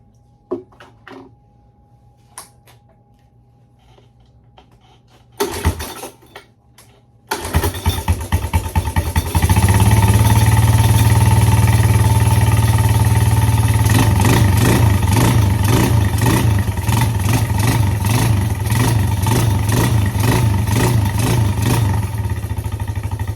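A John Deere LT185 lawn tractor engine cranks in a few short bursts, then catches and settles into a loud, steady running drone with a rapid pulsing beat, close by.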